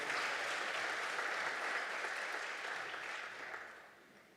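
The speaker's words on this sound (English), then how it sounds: "And now you can clap." Conference audience at an IMF research event bursts into sustained applause in a large hall, a dense, even wash of clapping that holds steady and then tapers off near the end.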